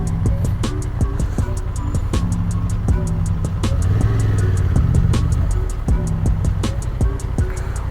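Tuk-tuk passing close on a busy road near Sintra, a steady buzzing small-engine drone with rhythmic clicking, loud and continuous throughout, engine note swelling slightly midway.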